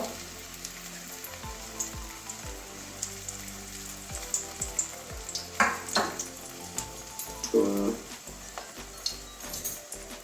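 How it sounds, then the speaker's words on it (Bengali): Fenugreek leaf fritters frying gently in oil over very low heat, a soft, quiet sizzle with scattered light pops and occasional utensil clicks, no talking. "এভাবে পোড়াগুলো সব ভেজে নেব আঁচটা একদম কমিয়ে দিয়েছি"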